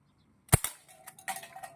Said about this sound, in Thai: เดี๋ยวผมยิงตัวกระป๋องก่อนนะครับ